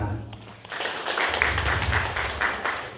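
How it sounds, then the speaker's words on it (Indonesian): Audience applause at a university graduation ceremony, a dense burst of clapping rising after a brief pause and continuing steadily at moderate loudness. "Tepuk tangan."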